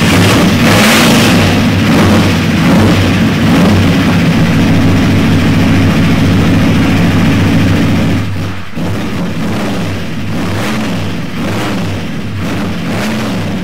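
A loud V8 engine in a 1969 Corvette hot rod idles with a heavy, lumpy rumble, then blips and revs repeatedly in short bursts, close by.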